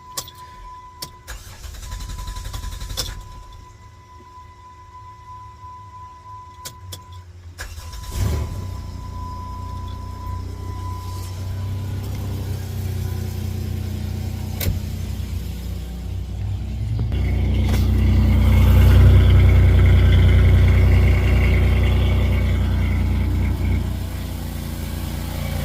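A car with its catalytic converter removed and a suspected exhaust leak cranks and starts, settles into a steady idle, then revs louder with deeper rumble later on, the engine heard close and alone without talk.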